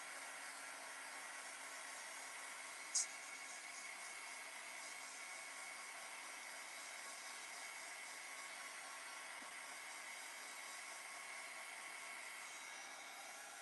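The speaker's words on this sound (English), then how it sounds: "Don't burn yourself with your heat gun." A heat gun blows steadily while drying paste on a mixed media art piece, a continuous hissing airflow held at an even level throughout, with one brief click near the start and no talking.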